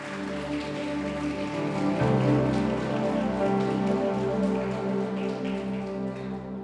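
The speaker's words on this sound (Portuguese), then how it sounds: "Você consegue aplaudir o Senhor por isso?" Church congregation applauding during a Portuguese-language sermon, a dense steady wash of clapping that swells slightly around the two-second mark and holds at an even level throughout, with music-like tonal bands underneath.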